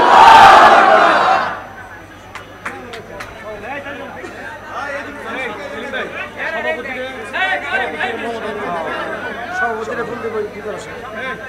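At an Islamic sermon gathering, a crowd roars back in answer to the Nara-e-Takbir call: one loud massed shout in the first second and a half, then it fades into a single voice speaking over a murmuring hall.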